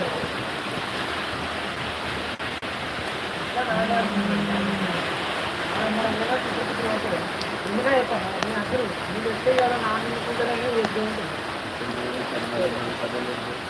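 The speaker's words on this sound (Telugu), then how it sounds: "చిన్నపాటి వర్షం అయితే పడుతుంది" Light rain falls steadily over a village, a continuous soft hiss that runs through the whole stretch while voices murmur underneath.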